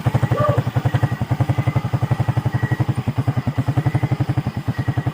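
A motorcycle engine runs close by, giving a steady, rapid thumping pulse that holds an even rhythm throughout at moderate loudness, with no talk over it.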